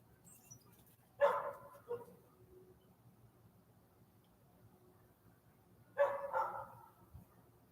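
A dog barks outdoors while chasing a cat back inside, two short separate bursts of barking several seconds apart, faint and a little distant against a quiet background.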